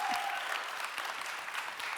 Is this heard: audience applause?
yes